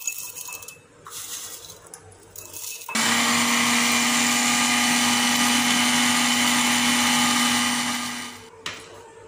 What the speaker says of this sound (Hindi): इसे मैं पीस लूँगी ग्राइंडर में डालकर।